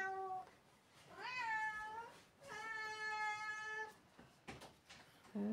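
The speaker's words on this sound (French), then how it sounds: "Ça c'est mon chat qui miaule tout le temps pour" A house cat meows repeatedly indoors, a few drawn-out, rising cries separated by short pauses, close and fairly clear, with a shorter call at the end.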